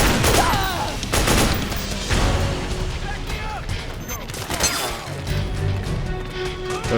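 Chaotic gunfire bursts and crashing impacts in the PS3 battle game Metal Gear Solid 4: Guns of the Patriots, loud and near, with shouted in-game voices mixed in among the shots.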